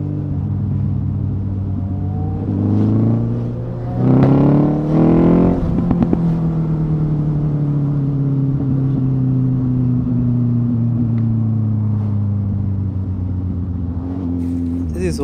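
Suzuki Hayabusa and GSX-S1000 motorcycles ride through heavy traffic toward Riara Road, giving a steady, close engine drone with a brief rise in revs early on before settling into a smooth cruise.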